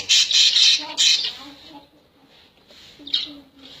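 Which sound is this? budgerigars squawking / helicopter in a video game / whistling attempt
budgerigars squawking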